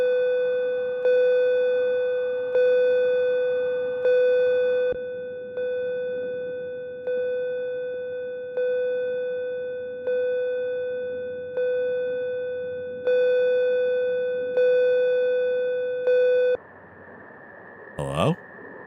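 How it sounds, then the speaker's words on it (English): A telephone rings in the Night Watch video game, a steady electronic tone repeating in even pulses about every one and a half seconds, loud and alone, then breaks off as the call is picked up with a brief click. "The phone is ringing."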